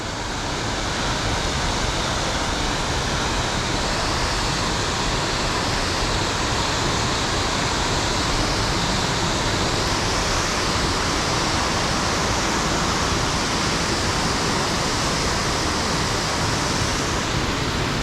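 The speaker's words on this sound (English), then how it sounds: "All right, Cucumber Falls, Ohiopyle State Park." Cucumber Falls waterfall in Ohiopyle State Park pours in a dense, continuous roar, loud and close, steady throughout with no voices.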